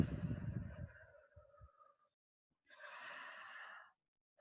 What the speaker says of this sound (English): slow breaths like this